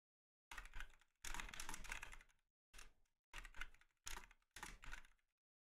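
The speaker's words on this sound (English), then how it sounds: "I will be typing them up for you" Fingers clatter on a computer keyboard in six quick bursts of typing separated by short pauses, close and clear in an otherwise silent room during a tabletop Dungeons and Dragons session.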